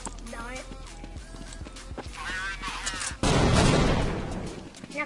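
Gunfire and a sudden loud blast ring out in a video game, with sharp clicking shots early on followed by a heavy, noisy explosion that slowly fades, under overlapping voices of players chatting.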